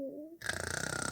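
A person imitating snoring, a rapid rattling, purring snore that starts after a short quiet tone and rises in quick pulses, close and loud.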